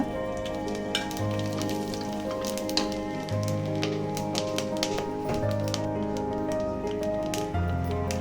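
Whole spices frying in heated coconut and sunflower oil for vegetable pulao, a steady close sizzle with rapid crackles and pops, plus a low hum in the background.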